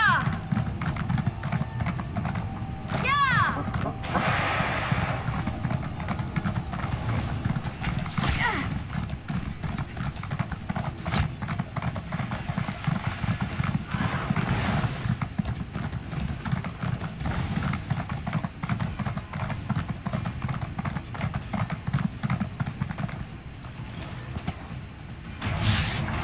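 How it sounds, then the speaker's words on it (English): Galloping video-game horse hooves pound in a fast, steady clip-clop over a dense wash of background noise and occasional whinnies. "I better take a horse."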